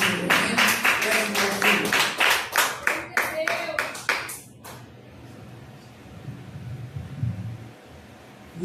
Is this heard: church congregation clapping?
yes